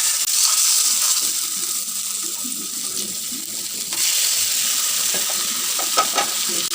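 Fish frying in hot mustard oil crackles with a steady, dense hiss, close and fairly loud, with a few light scrapes and clicks near the end.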